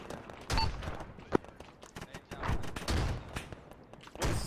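Incoming mortar fire during Marine platoon field training: several distant booming thuds and crackling bursts spaced across the stretch, with faint voices in between.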